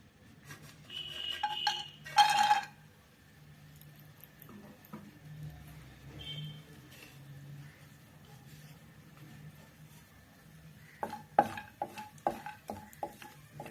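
Cashews roasting in ghee in a pan for wheat halwa, with soft sizzling under scattered scraping and a run of light metallic ticks and stirring clinks from a spoon against the pan near the end.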